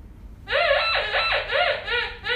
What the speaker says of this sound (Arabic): صوت الذهب